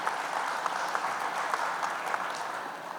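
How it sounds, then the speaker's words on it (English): An audience at a business conference session applauds, a steady patter of many hands clapping at moderate distance without pause. "I think it deserves a big round of applause."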